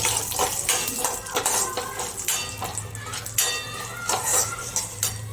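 A spoon stirs a spiced dabeli potato mixture in a metal pan, making close, continuous scraping with frequent metallic clinks against the pan.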